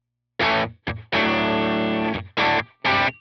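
Distorted electric guitar played through a Line 6 Helix amp modeller, a few loud chords and one long sustained chord separated by short gaps, heard alone with the pickup position changing between strums.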